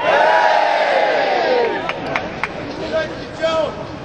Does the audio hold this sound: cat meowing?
no